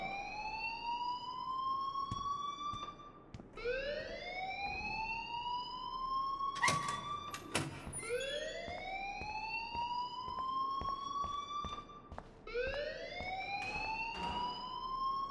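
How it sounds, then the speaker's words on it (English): Rising and falling siren-like alarm wailing in repeated sweeps inside the school setting of the video game Life is Strange, steady and fairly loud, with no talk over it. "please turn off that alarm since that's your job"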